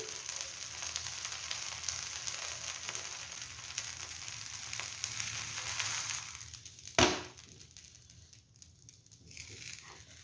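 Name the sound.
uttapam roasting on a pan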